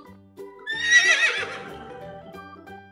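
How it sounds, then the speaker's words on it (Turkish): A horse whinnies loudly and close by, one long neigh that rises and then trails off over about two seconds, with no talking. "Evet, bu bir at. Şimdi atın sesini dinleyelim."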